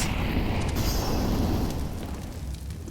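Grenade explosions during a Counter-Strike match on the Inferno map: a loud, dense, rumbling blast roar that fills the whole moment and tapers slightly toward the end.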